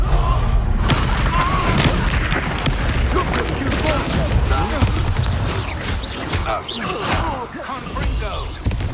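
The Confringo blasting spell goes off in the Hogwarts Legacy video game as a dense, loud boom and crash. Heavy rumble and debris-like clatter fill the whole stretch, mixed with battle effects and voices.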